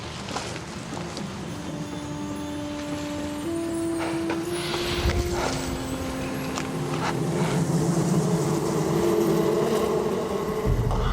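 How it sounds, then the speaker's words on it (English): A huge beehive in the jungle near Kilauea volcano gives off a continuous droning buzz with fluctuating tones and passing insect whines over a steady outdoor rumble. "the sound of the road turns out to be the buzz of a huge beehive"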